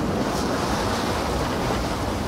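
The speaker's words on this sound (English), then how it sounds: "And just look at the waves." Ocean waves roll around a sailboat in a VR sailing video game: a steady, full rushing surf with a swell of wind noise, continuous and loud with no talking.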